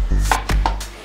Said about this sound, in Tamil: இதை பொடி பொடியாக இந்த மாதிரி நறுக்கிக்கணும்.